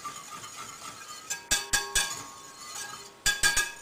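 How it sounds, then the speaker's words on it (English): A whisk clinks against a pot as baking soda is beaten into boiling water, sounding as bursts of sharp metallic taps in quick clusters over a low background hiss. "whisk it in"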